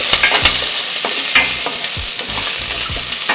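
Onion in a hot frying pan gives a loud, close sizzle, broken by rhythmic scraping strokes of stirring, about one every half second, with no talking.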